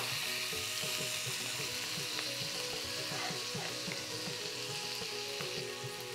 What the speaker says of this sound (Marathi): आता सगळा हा हिरवा मसाला टाकायचा.